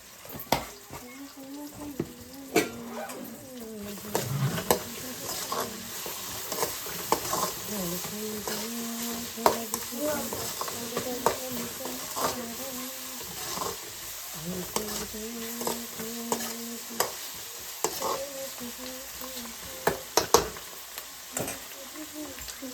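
Turmeric and curry leaves fry in a pan while a spoon stirs with repeated scraping clicks over a soft, steady sizzle; fairly quiet and close, with a low voice or hum in the background.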